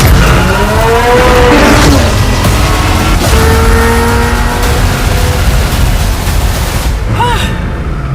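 A supercar with a twin-turbocharged V8 engine and a carbon-fiber body drives past loudly, its engine droning steadily with whining, shifting tones throughout and a rising whoop near the end.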